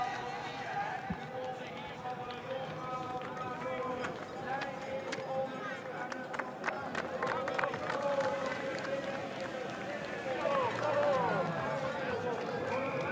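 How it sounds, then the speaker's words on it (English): A trackside crowd at a women's elite cyclocross World Cup race in Hoogerheide cheers and claps for a passing rider, a busy sustained roar with rhythmic clatter, heard under a commentator's voice. "this crowd really giving Eva Lechner a great cheer on"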